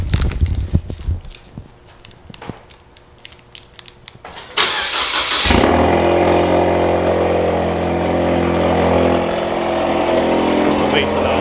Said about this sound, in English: I'm about to start my car right now.